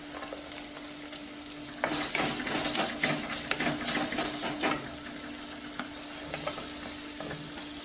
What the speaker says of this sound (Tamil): சிம்மில் வச்சு கொஞ்சம் வதக்குங்க.